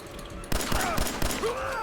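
Several sharp gunshots from an ordinary pistol in Fallout 4 crack in quick irregular succession over a steady game background, with a voice faintly present beneath.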